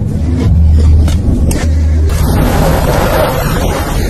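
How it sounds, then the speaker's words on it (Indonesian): A car approaches in a film scene, its engine a loud, steady low rumble that swells across the few seconds, with a brief boom-like surge partway through and no speech over it. "Louis yang mendengar suara mobil meminta Scott untuk bersembunyi"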